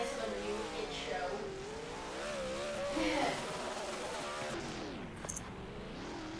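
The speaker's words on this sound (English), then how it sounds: "He's getting a lot of smoke up, unlike most of the other burnouts in this series." A dirt late model race car revs hard in a burnout at Beaver Dam, its engine note climbing and wavering loudly and continuously up close.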